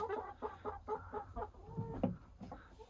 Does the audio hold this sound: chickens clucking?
yes